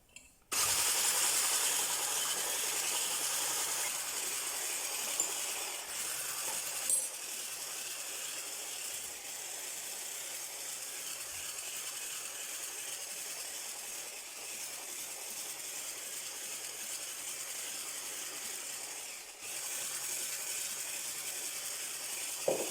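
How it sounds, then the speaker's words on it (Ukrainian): Egg whites being whisked with sugar by an electric mixer, a steady high whirring buzz that runs close and continuous for over twenty seconds with a brief dip near the end. "Збиваємо білки до першої пінки і тоді всипаємо більшу половину"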